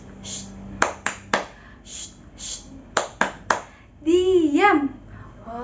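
Children in a classroom doing the 'tepuk diam' clapping routine, a few sharp, separate claps spaced apart, with a teacher's voice and children's voices chanting between them.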